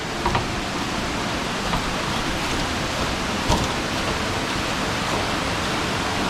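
A constant, broad rush of falling water from a nearby waterfall at Mae Kampong, Thailand, roars evenly throughout, with no voices heard.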